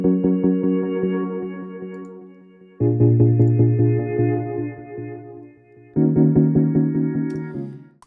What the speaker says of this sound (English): One is I called the ARP1 using an arpeggiator